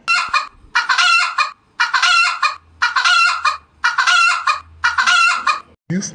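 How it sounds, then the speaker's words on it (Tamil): A rooster animal toy gives a loud, close electronic crow that repeats in about six evenly spaced bursts with short gaps between them. "நான் தான் சேவல் பேசுறேன்."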